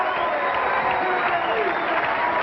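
Spectators at a 1997 professional bowling championship applaud and cheer in a continuous, even wash of clapping and crowd noise that stays steady from start to finish.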